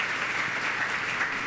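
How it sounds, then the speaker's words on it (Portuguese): Congregation applauding in a church service, a soft, even wash of many hands clapping at some distance, sustained and unbroken. "Vamos dar um aplauso ao Senhor pela vida dele e recebê-lo com alegria"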